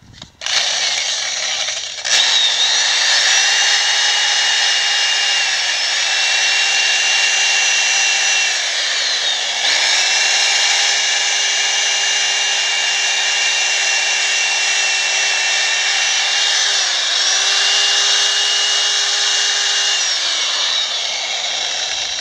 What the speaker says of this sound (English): I'm going to take a wire brush to it on my drill and get off some of this silicone